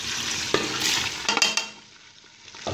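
Onions hit three tablespoons of hot oil in a pan and sizzle steadily, with a few brief stirring scrapes and knocks close by.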